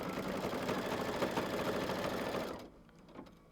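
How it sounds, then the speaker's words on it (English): A sewing machine stitches steadily through thick layers of quilt fabric, a loud continuous mechanical whir for about two and a half seconds before stopping abruptly, leaving faint light clicks behind. "I'm going to stitch that down, tack it down. It's going through a lot of fabric."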